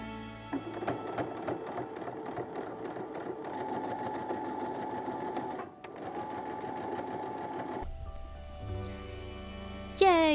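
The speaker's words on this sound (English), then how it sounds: "And then I'm gonna top stitch around." A sewing machine topstitching around the neckline of a blouse runs in a steady, close mechanical whir with a brief pause midway, then stops as other quieter sounds follow.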